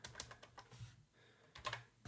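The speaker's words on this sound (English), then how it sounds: "I like just typing in" Quiet, close keystrokes tap on a computer keyboard in short clustered bursts, with brief pauses between groups of clicks.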